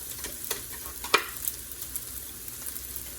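Cooked rice stir-fried in a hot pan with onion or pepper for fried rice, a faint soft sizzle with light scraping clicks and one sharper tap.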